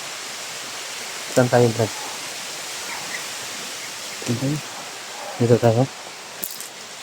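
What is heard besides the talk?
flowing stream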